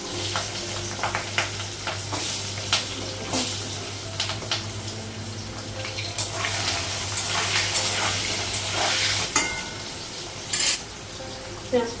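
Potatoes and onions fry in oil in a pan on a gas stove, a steady close sizzle with scattered stirring clinks and scrapes and a low hum underneath, no talking.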